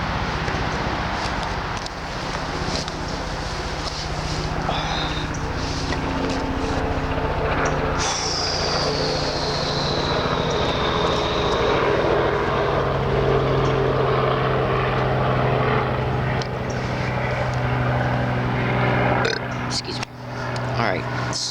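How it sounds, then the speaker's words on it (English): A helicopter drones loudly nearby, its engine and rotors holding a steady throbbing roar as it passes, with someone talking underneath. "Let this helicopter go by."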